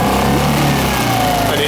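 A small boat's outboard motor runs loud and close, its buzzing drone rising in pitch as it accelerates, with a person talking over the engine.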